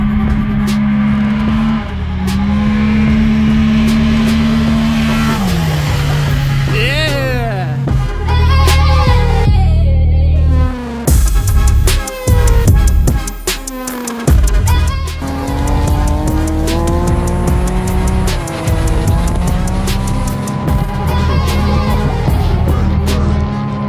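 A Polaris RZR XP side-by-side fitted with a Yamaha triple-cylinder snowmobile engine revs hard and loud, its pitch climbing and falling through repeated bursts with brief drops, close to the listener and with no talk.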